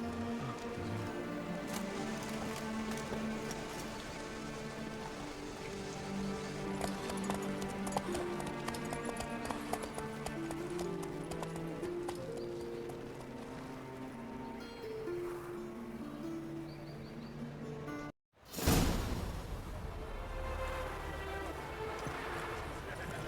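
Rhythmic clip-clop of horse hooves under a rider in The Witcher 3: Wild Hunt, steady and continuous beneath a bed of game music, cutting out briefly near the end before resuming.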